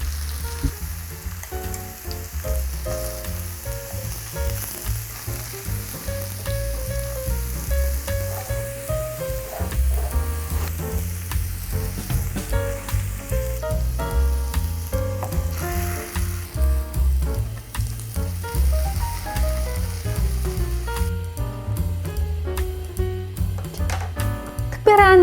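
Korean potato pancake (gamja-jeon) made from fresh potatoes sizzles and crackles steadily in an oiled pan, a continuous close frying hiss with occasional stirring taps, under soft background music and a voice.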